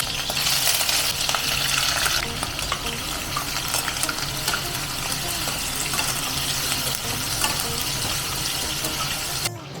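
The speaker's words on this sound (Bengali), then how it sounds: "চিংড়ি মাছ এখানে ফ্রাই হচ্ছে" Prawns fry in hot oil in a home kitchen while cooking prawn pulao, giving a steady, loud sizzling hiss with faint stirring and clattering throughout, and no talk.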